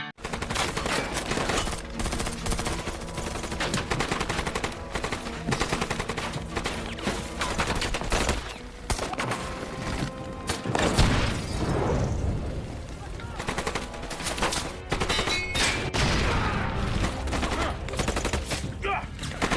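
Rapid bursts of gunfire crackle through a dense, loud action scene in a film, with voices and music mixed underneath throughout.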